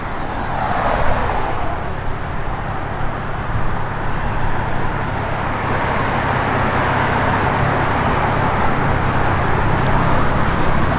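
A 1972 Chevrolet Blazer K5 truck with an all-new exhaust rolls past on a road in a steady, moderately loud wash of engine and tyre noise that holds for several seconds.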